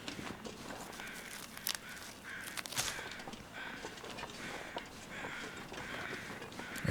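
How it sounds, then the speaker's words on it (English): Crows cawing in The Long Dark survival game, several harsh caws repeating in bursts over a steady ambient background, fairly close and clear with no talk. "I hear birds."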